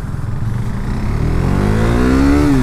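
A 2017 KTM RC390 motorcycle pulls away hard from a standstill, its engine note climbing steadily in pitch as it revs up through the gear, loud and close with no talking.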